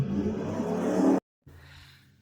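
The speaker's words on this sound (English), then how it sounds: "Those motorcycle sounds, let's ignore those." Motorcycle engines drone steadily nearby, one cutting out abruptly for a moment, then a fainter engine hum resumes in the distance.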